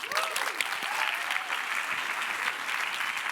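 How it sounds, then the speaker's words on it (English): Conference audience at a Ruby lightning talk session applauding as the next speaker comes up: a dense, steady wash of many hands clapping for a few seconds, moderately distant. "why don't we give a round of applause to Anna and have her come up"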